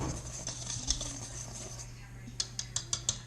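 A thin whisk dry-blending flour and instant yeast in a bowl, giving light rhythmic ticks and taps against the bowl that turn into a quick run of distinct clinks near the end, with faint talk underneath.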